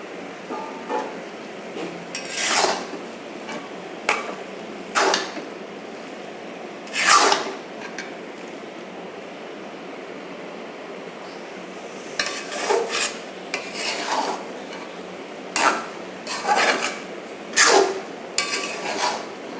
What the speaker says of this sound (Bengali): আমি ঢাকনাটা খুলে আবার নেড়ে দেবো